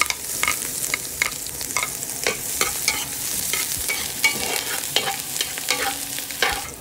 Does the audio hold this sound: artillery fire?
no